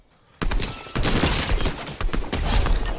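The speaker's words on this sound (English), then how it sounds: "There's people shooting right here." Close, loud gunfire in the video game Fortnite: dense overlapping shots rattle almost continuously for about two and a half seconds after a brief quiet start.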